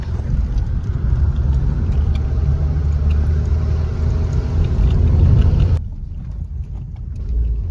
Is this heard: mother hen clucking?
no